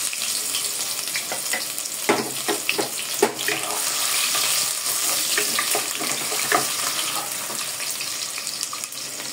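Onion, cardamom, cinnamon and bay leaf fry in oil for khichuri, a loud continuous hiss with a cluster of clattering stirs early on, then a steadier sizzle.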